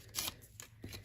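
A page torn from a book for a paper craft project: two short ripping bursts of paper, the first brighter and longer, the second softer near the end, close and quiet with no voices.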